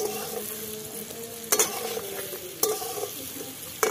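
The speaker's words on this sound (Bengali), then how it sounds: "এখন নতুন আলু তো একটু শক্ত শক্ত থাকে, তার জন্য একটুখানি জল দিয়ে ভেজে নেব।" New potatoes sizzle steadily in a pan with a little water, with a few sharp scraping stirs of a spatula breaking in loudly over the continuous frying hiss; no talking.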